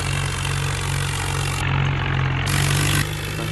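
A tractor hauling a heavy load of sugarcane runs its engine in a steady, loud, low chugging drone that holds close and continuous throughout, with no voices.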